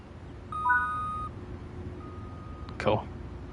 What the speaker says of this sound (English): Do you hear that guard buzzer then?